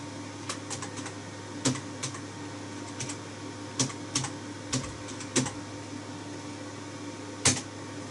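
Keys on a computer keyboard are tapped in short, scattered clicks as an IP address is typed, quiet and close against a faint steady hum.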